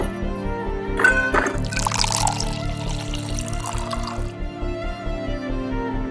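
Water being poured, a bright splashing pour rising over about three seconds and then tapering off, under a loud steady backing of rhythmic music.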